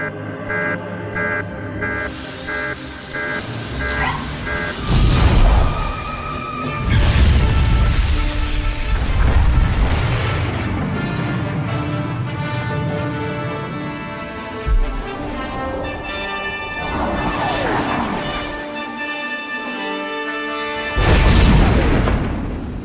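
A big weapon launches in a Star Wars role-playing game on Balmorra, followed by repeated deep booming explosions and long rumbling swells layered under game music.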